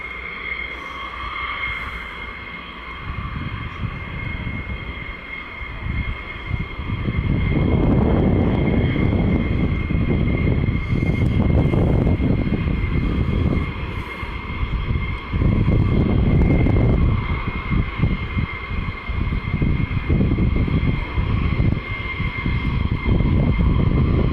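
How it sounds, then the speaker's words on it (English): Military aircraft at RAF Lakenheath roar steadily in the background, a broad rumbling engine drone that swells louder midway and stays strong, with no one speaking. "let me know if you can hear the planes in the background"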